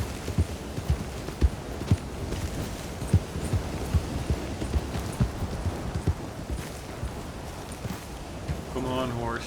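A horse's hooves thud in a rhythmic gallop through a roaring sandstorm in Red Dead Redemption 2, steady close beats over a constant windy rush, with a louder creaking swell near the end.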